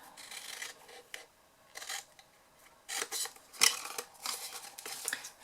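Scissors snip through material in short, separate bursts of crisp cutting, fairly quiet and close, with pauses between each cut.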